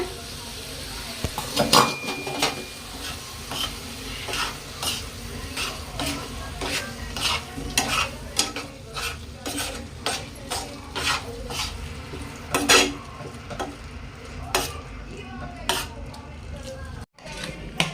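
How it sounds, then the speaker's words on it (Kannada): Eggs frying in ghee for an egg ghee roast give a steady close sizzle, broken by repeated scraping and stirring strokes of a utensil against the pan, with no talk. "ನಾವು ಫ್ರೈ ಮಾಡ್ಕೊಂಡು ಮೊಟ್ಟೆ ರೀ ಹಾಕೊಂಬಿಡೋಣ"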